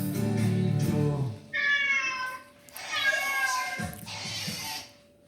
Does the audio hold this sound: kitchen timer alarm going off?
no